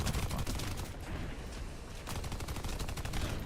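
A World of Warcraft hunter fires projectiles in a rapid, dense burst of gunfire-like shots that rattle on loudly and continuously with no talking.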